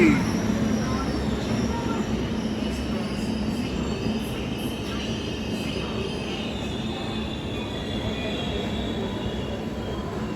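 The Vikramasimhapuri Express, train 12743, pulls into Tenali Junction with a steady, loud rumble of rolling wheels and carriages, a brief squeal at the start and faint high screeches throughout, a continuous near rail drone.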